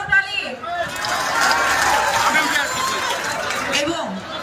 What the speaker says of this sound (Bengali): আমি বলবো এখানে যারা জনগণ আছেন তাদের উদ্দেশ্যে একটা জোরে করতালি